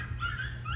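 Small dog whimpering, a brief high thin whine over low household rumble, close by.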